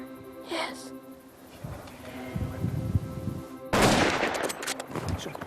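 A hunting rifle fires a single loud shot during a Cape buffalo hunt in Tanzania, a sharp broadband blast that rings out over quieter background hum, with brief voices nearby.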